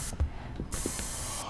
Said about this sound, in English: I'm gonna set a trap for you in spray paint.